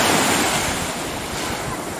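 Waves rolling onto a quiet beach stretch on Ibiza, loud and close, a dense steady wash of surf with wind buffeting the microphone and no voices.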